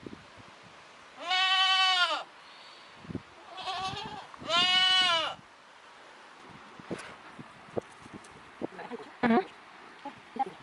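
Sheep on a farm holiday bleat loudly twice in long wavering calls, with a softer bleat between and faint rustling and small movement sounds afterward, close to the listener.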